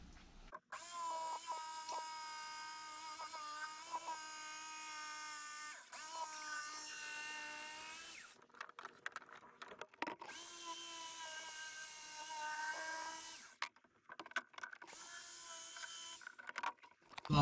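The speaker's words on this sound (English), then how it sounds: "So I'll get the jigsaw now, and I'll cut that shape out." A jigsaw cuts a shape in boarding for boxing in heating pipes during a narrowboat fit-out. The tool buzzes in a sustained, motor-toned run, stops briefly, then carries on in shorter bursts with gaps between.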